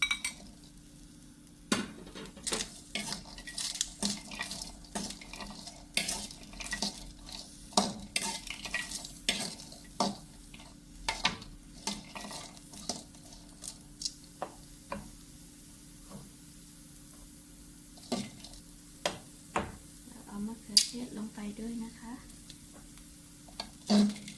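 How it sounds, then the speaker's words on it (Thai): Chilies, garlic and shallots dry-roasting in a pan for a fermented fish chili dip, a soft background crackle under repeated scraping strokes and metallic clinks of the spatula, close and intermittent. "แล้วก็เอาพริกลงไปคั่วได้เลยนะคะ พริกกระเทียมหอมแดงนะคะ ลงไปคั่วนะคะ"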